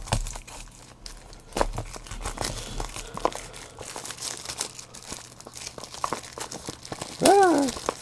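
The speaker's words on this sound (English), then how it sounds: "Now we can rip open the plastic easily." Plastic packaging on a convention-exclusive Star Wars Funko game being ripped and crinkled open, a close, busy run of crackling rustles that swells into a louder tearing burst near the end.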